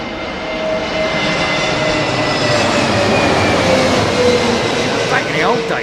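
An Airbus A320neo airliner arriving at Heathrow, a loud, steady jet engine roar with a whining tone that holds close overhead throughout.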